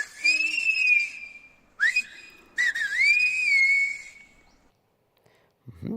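Silbo, the whistled language of Tenerife, carries a phrase in three clear whistled bursts with gliding, bending pitch, the first and last long and sustained, heard alone and close, ending in near silence and a faint low thump.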